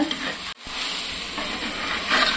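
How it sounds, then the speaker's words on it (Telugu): Chicken biryani spices are stirred in a clay pot, giving a continuous close sizzle and scraping stir with one brief break partway, then a steady frying hiss. "ఇవన్నీ ఇలా ఒకసారి కలిపేసుకోవాలి"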